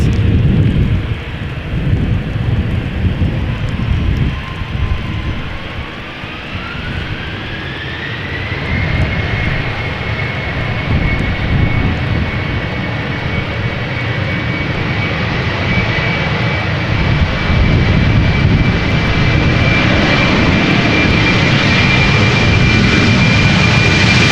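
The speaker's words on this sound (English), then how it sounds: "This is German Airways flying for KLM as flight 1333 going to Aalborg, Embraer 190" An Embraer 190 jet airliner, 15 years old, flown by German Airways for KLM, departing Amsterdam Schiphol Airport: a loud, sustained engine roar with a rising whine that settles into a steady high tone as the jet climbs away.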